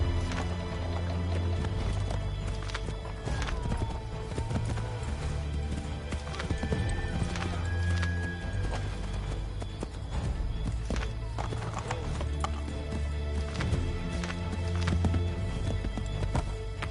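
Horse hooves galloping in the video game Assassin's Creed 3, a continuous rhythmic clip-clop of a running horse with an occasional whinny, set against in-game ambience.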